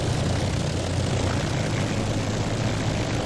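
A propeller aircraft engine in the IL-2 flight simulator game drones loud and steady as the plane taxis, a dense continuous roar with no talk.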